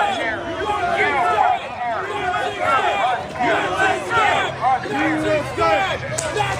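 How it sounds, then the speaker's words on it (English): A large protest crowd chants in loud, rhythmic bursts of many voices, sustained and close, with shouting mixed through. "Incredible crowd here. People chanting."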